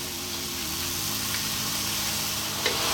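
Vegetables for Tagalog lumpia sizzle and hiss steadily in a hot pan as they are stirred, a dense, even frying crackle up close with a faint scrape of the utensil near the end.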